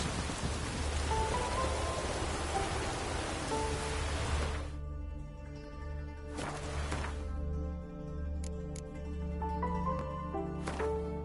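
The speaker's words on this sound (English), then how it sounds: "No use doing any work in this rain." Heavy rain in a PS4 video game hisses steadily, then eases to a softer patter as gentle musical tones play underneath; no voices.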